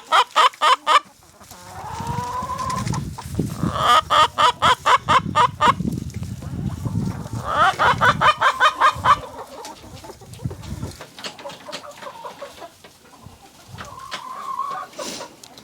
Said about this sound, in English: she is my loudest chicken